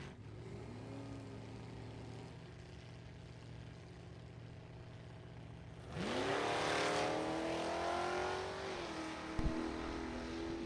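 Drag race run by Dennis Roche's 1978 Mustang, a low idle drone before the launch, then a loud, rising engine roar with climbing gear sweeps that carries on steadily to the end.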